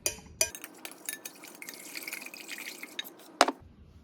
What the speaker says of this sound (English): I add a little extra water this week.